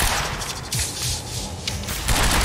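Rapid gunfire from shooting an enemy in the video game Quantum Break, a dense volley of loud, overlapping shots with a few sharper bursts standing out, close and unbroken by talk.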